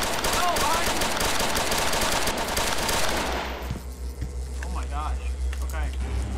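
Rapid gunfire in the video game Object N, a loud continuous volley for about three seconds that cuts off, followed by quieter game sounds and voices.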